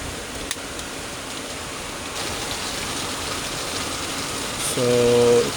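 Steady rain falling outdoors, a continuous broadband hiss of drops with no talking, holding at an even level and swelling slightly toward the end, where a brief tonal hum joins in.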